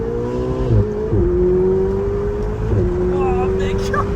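A Ferrari 488 Spider accelerates hard, its engine note climbing loud and near through several quick gear shifts, each marked by a brief dip before pulling again.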